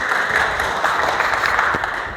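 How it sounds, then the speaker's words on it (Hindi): Audience at a workplace Safety Day program applauding for a guest named Ajay, a dense, continuous roar of many hands clapping together, steady and fairly loud, easing slightly at the end. "जोरदार ताली अजय जी के लिए"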